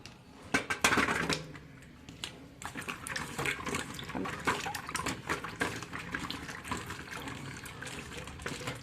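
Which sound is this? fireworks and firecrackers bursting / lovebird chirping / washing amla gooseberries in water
washing amla gooseberries in water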